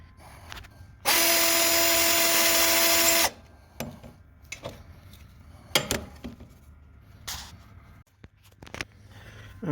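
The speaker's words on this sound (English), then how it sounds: "So I got to take the battery back out and drill the front bolts." Power drill bores bolt holes for a 48V lithium battery mount on a Ryobi RM300E electric riding mower, one loud steady whine lasting about two seconds, followed by quieter clinks and handling noises.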